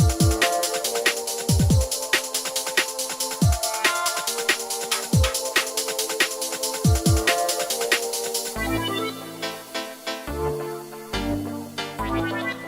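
A jungle music track mastered with the Master Plan plugin plays, with punchy kicks and bass stabs under bright synth chords, then shifts midway to a choppier breakbeat section with deep sub hits.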